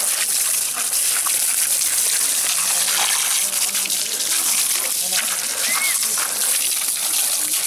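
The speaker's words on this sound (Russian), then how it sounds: "Вот так опресняю приборчик свой. Обязательно после соленой воды нужно проводить такую процедуру." Steady gushing, splashing water runs continuously while a metal detector is rinsed free of salt water after an underwater search on the Adriatic coast of Montenegro; loud and close, with no talk over it.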